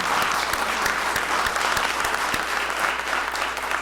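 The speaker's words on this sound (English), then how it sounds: "Let's give them a round of applause for our winners, please." A roomful of guests at an awards breakfast applauding the winners, with steady close clapping and a few sharper individual claps standing out, and no talk over it.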